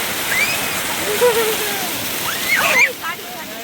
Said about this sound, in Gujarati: મસ્ત પાણી આવે જો અહીંથી ઉપરથી